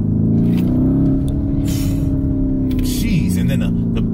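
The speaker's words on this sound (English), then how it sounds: "Jeez, and then the backfires, the burbles" A modified Lamborghini Urus engine drones loudly nearby with a steady rumbling exhaust tone and a brief pitch shift, crackling backfires and burbles popping through the high end.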